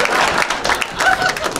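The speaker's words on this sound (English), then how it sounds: "So clap for them and clap for her" Audience applause and cheering at a stand-up comedy show fills the room as a steady, dense wash of clapping lasting throughout, with no speech over it.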